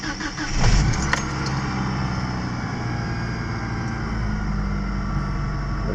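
A Mitsubishi Galant VR4 with a newly fitted stealth intake cranks briefly, catches with a loud surge, then settles into a steady close idle that drones on alone.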